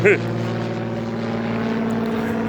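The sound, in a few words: airplanes flying overhead near an airport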